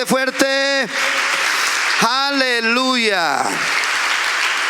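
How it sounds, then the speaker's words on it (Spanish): A church congregation applauds loudly and steadily, a thick wash of clapping running under a man's loud, drawn-out shout. "Aplauso a Jesús, bien fuerte, fuerte, fuerte, fuerte"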